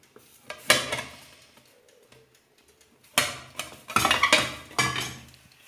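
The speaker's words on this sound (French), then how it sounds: "vous mettez une assiette par-dessus, comme ceci, pour retourner le plat et faire cuire le dessus" Porcelain plate clatters onto a metal frying pan holding a potato omelette, with sharp clinks and scraping knocks in two bursts separated by a short quiet pause, close and fairly loud, no talking.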